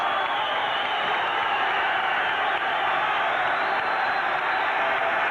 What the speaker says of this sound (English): the crowd are cheering, Jim